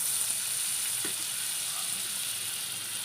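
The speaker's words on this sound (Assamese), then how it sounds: "কেৰাহী গৰম কৰি ইয়াত অকণমান মই বাটাৰ দি দিছোঁ" Butter sizzling in a hot kadai, a steady close hiss with faint crackles running evenly throughout.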